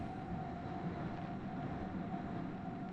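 A train runs on rails with a steady low rumble and faint constant hum, an even, muffled roar throughout as if heard from inside a carriage, with no voices.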